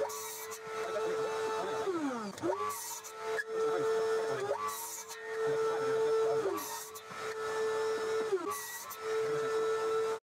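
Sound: miter saw cutting workbench leg pieces to length

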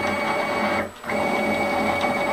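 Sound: mill Z-axis motor running

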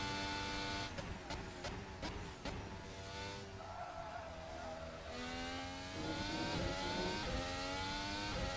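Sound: race car engine on a hot lap in the video game F1 2019

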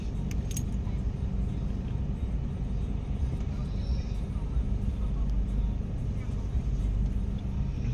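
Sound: inside a moving truck

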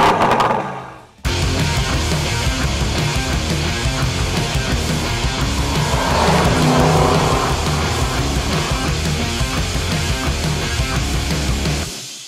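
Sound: V8 SUV engine revving and accelerating

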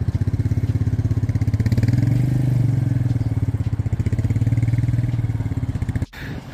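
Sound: motorcycle being ridden up onto a stand

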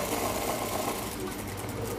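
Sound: sewing machine stitching a laundry bag

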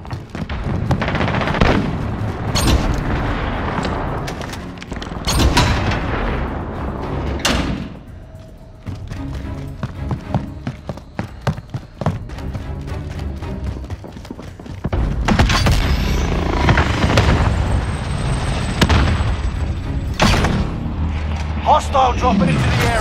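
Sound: enemy precision airstrike explosions and gunfire in video game Call of Duty Warzone

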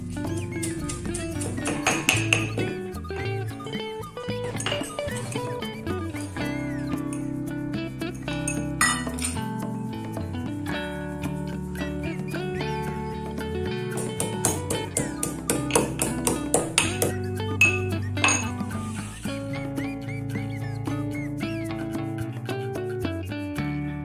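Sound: crushing peeled peanuts and ginger by hand

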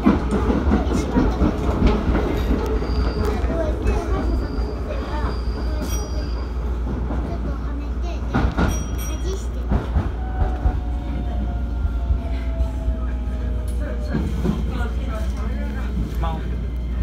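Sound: Shin-Keisei N800 series train arriving at Matsudo station

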